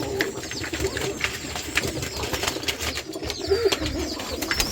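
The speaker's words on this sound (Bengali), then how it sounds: "এই যে একটা মাদি কবুতর" A female Rajshahi Giribaj pigeon gives repeated soft, throaty coos close by, with rustling and faint flutters in the background.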